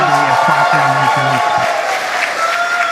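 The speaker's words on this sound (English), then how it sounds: "by the cheers behind us, the Polaris Dawn crew has successfully splashed down" Crowd cheering and applauding after the SpaceX Polaris Dawn crew splashdown, a steady wash of clapping and cheers with someone speaking over it at the start.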